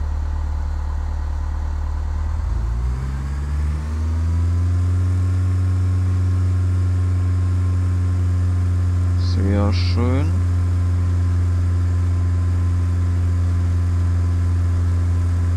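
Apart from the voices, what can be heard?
aircraft engine throttling up in Flight Simulator X video game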